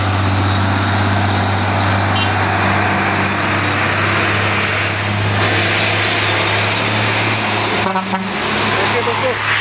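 Minibuses and private cars climb the Bukit Kodok hill road, a continuous loud engine drone with low rumble close by, passing traffic blending into a steady wash and a brief horn-like toot near the end.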